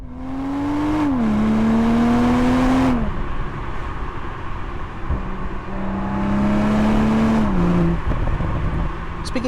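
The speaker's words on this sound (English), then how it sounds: "And this is what it sounds like from the outside." A BMW M240i xDrive heard from outside, revving hard in two separate pulls: a loud rising engine note, a quick drop at a shift, then a quieter stretch before a second climb and fall.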